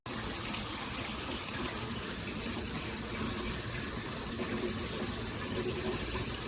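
Water gushes steadily from a detachable handheld shower head with hose, a loud, even hiss filling the whole stretch with no talking.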